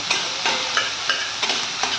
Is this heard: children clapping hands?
no